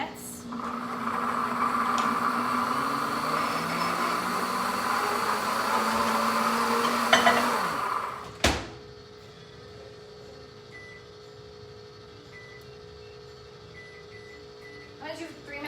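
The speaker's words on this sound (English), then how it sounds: "So I'm just gonna put some sausage into the microwave for a couple of minutes." A microwave oven heating sausage hums steadily for about eight seconds, then a sharp click or door clunk cuts it off, leaving a quiet room with faint beeps at the end.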